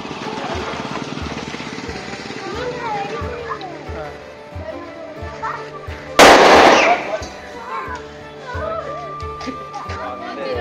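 A single loud Diwali firecracker bang bursts out midway, standing above an idling engine and a rhythmic background hum, with voices heard around it.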